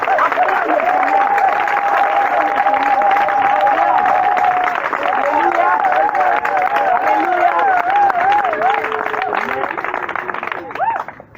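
Church congregation at a seminar cheering and applauding the Lord, a dense, loud, sustained wash of clapping and shouting voices that fades slightly near the end.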